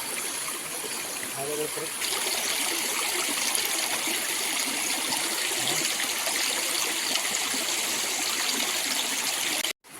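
A stream flows steadily nearby with a continuous rushing wash; a few faint voices come through underneath before the sound cuts off abruptly at the end.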